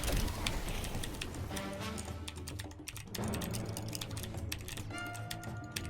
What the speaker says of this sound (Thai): มึงใช้คีย์บอร์ดรุ่นไรวะทำไมมันกดเร็วจังเนี่ย